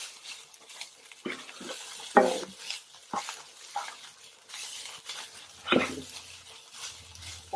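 Ground meat for lasagna browns in a pan, a soft sizzle broken by scraping stir strokes at irregular intervals, fairly quiet and close, with no talk.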